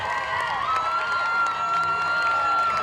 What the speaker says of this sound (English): Big applause from the Great Nanaimo crowds here for Catherine Lamoureux.